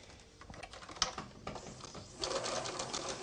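A sewing machine stitches a quarter inch side seam on a small fabric pocket tissue holder, a quiet, rapid run of stitching that grows denser and steadier toward the end, with no talk.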